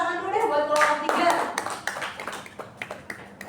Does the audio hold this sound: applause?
yes